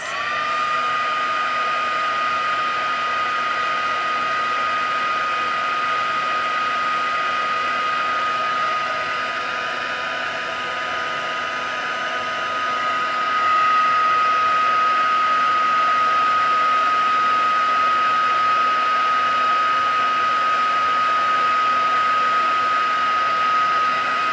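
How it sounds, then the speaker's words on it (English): Heat gun heat-setting embossing powder on a Stampin' Up! card project, a steady loud blowing whir with a constant hum that runs unbroken throughout, rising slightly in level partway through. "And now we're going to heat set this."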